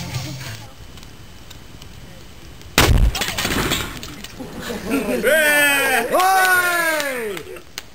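Firecrackers and bangers at a Finnish Midsummer party on a lake island: one sharp, loud bang rings out and fades, then excited voices shout and cheer loudly over it.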